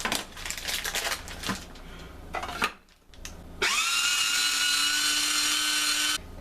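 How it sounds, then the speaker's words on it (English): A block of cheddar cheese is rubbed over a grater in quick bursts of scraping strokes. After a short pause comes a sustained, steady rasping. "I need to grate the cheddar."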